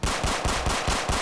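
Rapid automatic gunfire from a Roblox game weapon, a fast steady burst of about eight loud shots in just over a second, with no talking.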